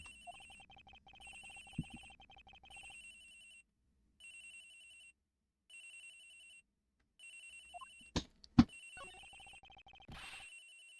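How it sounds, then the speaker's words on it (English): Electronic cell phone ringtone from a locker in the Ace Attorney Investigations video game, repeating in regular bursts with short gaps, interrupted near the end by a few sharp clicks and thumps. "That's gotta be the victim's cell phone."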